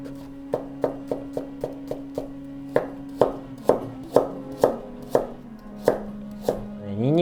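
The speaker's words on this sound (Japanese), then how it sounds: "ニンニクと生姜みじん切りにしていきます。" A knife minces garlic and ginger on a cutting board: a series of about fifteen sharp, close chops, evenly spaced at first and then quicker and heavier, with no voices.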